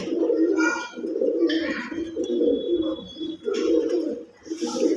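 Several pigeons in a loft, including Kuwaiti Teddy and Shialkuti breeds, coo continuously at close range, rising and falling in layered throaty phrases with occasional higher chirps between them.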